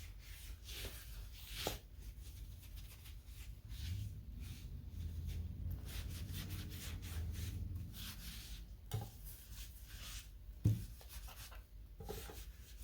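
Stencil brush rubbing brown wax into painted thrifted wood, a soft, continuous scrubbing swish over several seconds with a few sharper taps and knocks, faint and close.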